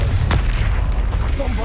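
Confringo blasting curse explosions in Hogwarts Legacy, a steady loud booming rumble with a sharp crack near the start, dense and close throughout.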